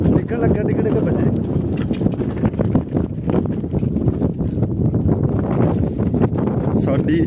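A donkey's hooves clip-clop in a quick steady rhythm, fairly close and loud, while people talk over the sound.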